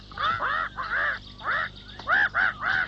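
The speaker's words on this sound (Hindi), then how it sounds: "क्यों चिल्ला रही हो मैना?" A myna bird shrieks in a cartoon jungle, a series of loud, harsh, close calls in rapid bursts with short pauses between them.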